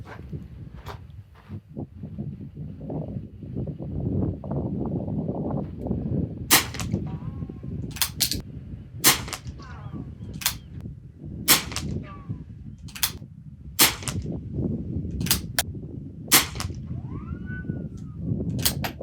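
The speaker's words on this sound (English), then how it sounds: "Now I'll do 5 shots in one card, 5 shots in another card." Shots from a BSA Martini International Mark II rifle crack out at an outdoor range, a dozen or so sharp, loud reports spaced a second or two apart, over steady background rumble and noise.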